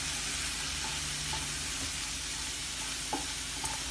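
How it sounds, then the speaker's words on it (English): Cauliflower rice with beans and fresh cilantro being stirred in a hot pan, a steady broadband sizzle with soft scraping and a couple of brief utensil clinks near the end. "let's stir that up."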